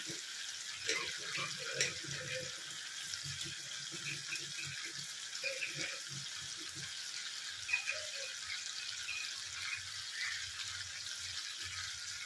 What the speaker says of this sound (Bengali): একটু এই হাত ধুয়ে ঘিটা, গুড়ের শিশিটা ধুয়ে একটু জল দেব।